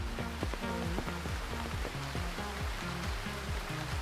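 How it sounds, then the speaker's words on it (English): Steady rain falls in the Retro Rewind video game, a continuous hiss under a repeating low musical melody, with no talk. "It's a rainy day."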